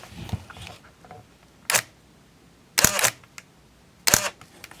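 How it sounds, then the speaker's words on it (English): A camera shutter set to a one-second exposure fires in sharp mechanical clicks, each opening paired with a closing snap a moment later, close and crisp in a quiet room with no talk. "I thought what I would do is run this shutter speed way down, and so we can watch it here."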